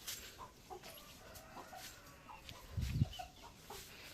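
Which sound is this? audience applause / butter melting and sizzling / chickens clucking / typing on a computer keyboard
chickens clucking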